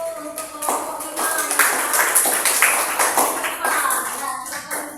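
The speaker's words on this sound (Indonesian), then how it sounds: "kita berikan tepuk tangan dulu untuk kelompok 5" A classroom group claps for the fifth student group, dense rapid hand claps filling the whole stretch at steady loudness, close and lively, with no voices rising above them.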